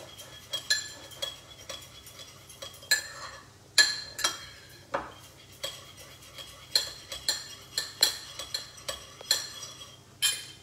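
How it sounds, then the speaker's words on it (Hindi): A spoon stirs chili sauce and vinegar together in a dish, giving repeated sharp metallic clinks at an uneven pace, close up, with no talking. "इसको अच्छे से मिक्स कर लेते हैं"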